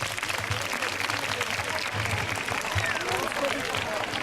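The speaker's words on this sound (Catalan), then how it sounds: "Per favor, un fort aplaudiment per a ells!" Sustained audience applause at a school nativity play performance, a dense, steady wash of many hands clapping at moderate distance with no breaks throughout.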